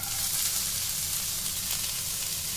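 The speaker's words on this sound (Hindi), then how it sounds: "इसमें डालेंगे हम ये राई और राई हल्की सी तिड़कना शुरू हो उसके साथ ही हम हरी मिर्च और प्याज डाल देंगे" Mustard seeds sputter in hot ghee in a pan for a dosa-batter breakfast, a steady dense crackling sizzle, close and continuous, with no voices.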